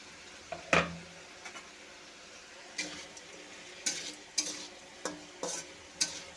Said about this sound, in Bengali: সবজিটা একটু ভাজা ভাজা করে নিলাম।